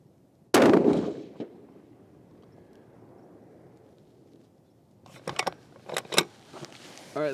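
Rifle shots ring out at an outdoor range: one loud, sharp report early, then a quiet stretch of low background rumble before a quick cluster of fainter cracking bangs.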